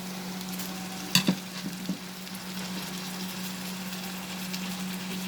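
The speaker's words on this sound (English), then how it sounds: "Once the raw smell of the ginger garlic paste disappears, we will add the chopped tomatoes," Chopped tomatoes frying in a pan with ginger garlic paste, chili flakes and spices, a steady low sizzle with a hum beneath and a few brief knocks of a spoon early on, no voices.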